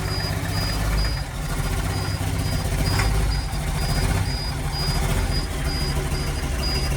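An engine in an old project vehicle runs rough on its own after being started on ether, a steady loud rumble with uneven low pulsing and a faint repeating high beep over the whole stretch.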